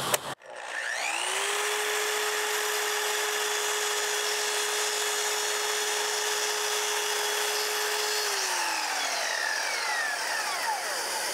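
A miter saw spins up and slices through a wooden board in one long, steady, loud cut, with a sustained whine before it winds down at the end.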